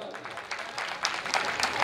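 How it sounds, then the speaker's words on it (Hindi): Audience applause at a state-level dance event rises in short, loosening bursts of clapping over a couple of seconds, with a faint voice mixed in. "एक बार जोरदार ताली बजा दो।"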